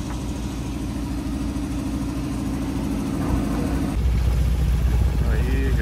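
A sailboat's engine drones steadily at close range, a low rumbling hum that grows slightly heavier partway through.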